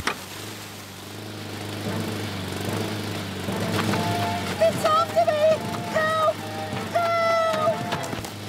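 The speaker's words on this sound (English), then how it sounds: "That's a petrol lawnmower." A petrol lawnmower runs with a steady engine drone throughout, while tonal chirps and musical or voice-like sounds break in over its second half.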